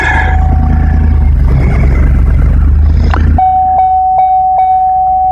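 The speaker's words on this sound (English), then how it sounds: "But I'll go up and start the truck here" A truck engine runs loud and steady, revving while ropes are pulled tight on parts of a big maple tree, then cuts to a quieter stretch with a sustained tonal hum and a few sharp ticks.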